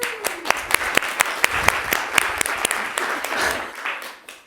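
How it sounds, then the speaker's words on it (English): Audience applause after a presenter is introduced at an innovation fund info day, a dense steady clapping with sharp individual claps standing out, cutting off near the end. "Let's give him a warm applause"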